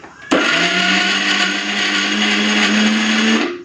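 A blender grinds ivy gourd (kundri) into a paste without water, snapping on abruptly and whirring at a loud, steady pitch for about three seconds before winding down.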